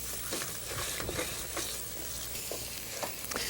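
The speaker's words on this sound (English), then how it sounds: "So I'm going to keep stirring this for another 4 or 5 minutes." Carrot halva being stirred in a pan, a low continuous sizzle broken by repeated scraping strokes of the spoon at an even pace, close and fairly quiet, without speech.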